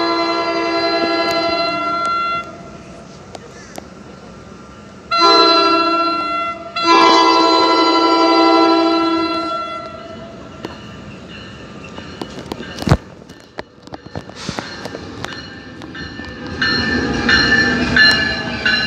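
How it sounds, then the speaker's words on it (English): A rush-hour New Jersey Transit train at Red Bank station sounds loud, sustained horn blasts, then rumbles and clatters with scattered clanks as it moves along the platform, heard up close. "This is definitely the rush hour train."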